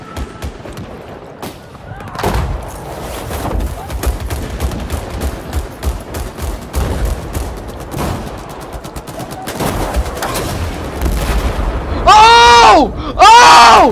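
Battlefield 4 tank combat with a TOW launcher: repeated loud gunshots and heavy booms in irregular bursts, close and punchy, with a speaking voice mixed in and warbling electronic tones near the end.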